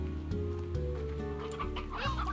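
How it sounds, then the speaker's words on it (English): Hens clucking in the game Slime Rancher, a steady layered run of close, fairly loud clucks and squawks over a continuous droning background, with no voices. "Right, now that should be enough hens."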